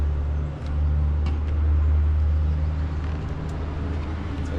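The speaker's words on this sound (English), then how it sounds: "for this truck to go past" A truck passes close by on a road, its low engine rumble swelling into a loud, steady roar that fills the whole stretch before easing slightly toward the end.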